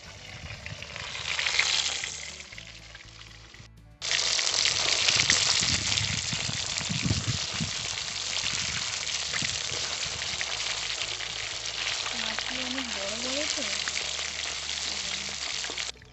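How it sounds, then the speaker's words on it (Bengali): Pieces of Bhola fish fry in hot oil in a village kitchen, a steady crackling sizzle that drops away briefly and then returns louder and fuller. "মাছগুলো সুন্দর লাল লাল করে ভাজা হচ্ছে।"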